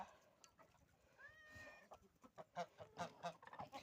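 Geese honk and cackle nearby, a drawn-out call followed by a rapid series of harsh honks, fairly faint overall.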